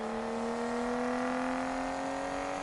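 A car engine held at a steady high rev during a drift in a PS4 video game, a constant droning whine with a slowly rising pitch and no break.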